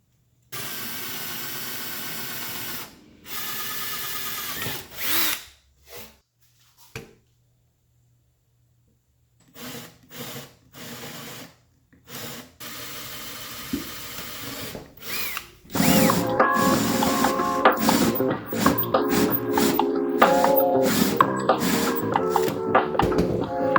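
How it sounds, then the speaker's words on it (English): A power drill bores bolt holes through a wooden table for a radial arm saw, in repeated bursts separated by silences, ending in a longer sustained run of whirring and cutting. "Once I drilled the holes, I used a Forstner bit to drill countersink holes in the top."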